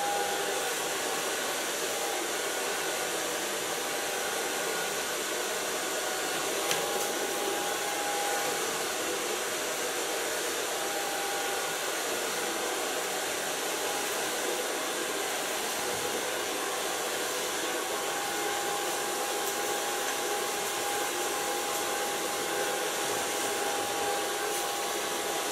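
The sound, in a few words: hair dryer blow drying long hair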